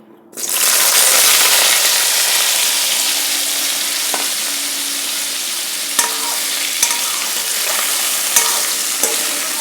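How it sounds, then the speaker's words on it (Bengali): Boiled potatoes hit hot oil in a pan and burst into a loud, sudden sizzle. The frying holds steady, with a few sharp utensil taps against the pan. "আলুটাকে ভেজে নেব"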